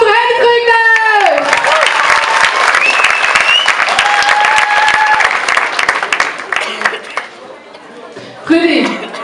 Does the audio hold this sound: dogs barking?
no